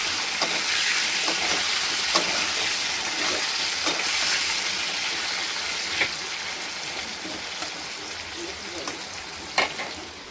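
Potatoes braise in a covered pan with a steady, even sizzle, broken by a few soft clicks and taps of utensils, and no voices over the frying.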